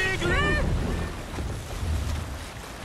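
A sailing ship moving across the open sea in Assassin's Creed Valhalla, with rushing wind and wash of waves; a voice calls out briefly at the start over the steady water and wind noise.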